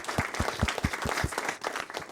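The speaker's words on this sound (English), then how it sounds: "Everybody clap it up." An event audience clapping in a room, a brisk run of hand claps with distinct regular strikes near the front over a broader crowd applause, loud and sustained with a brief dip near the end.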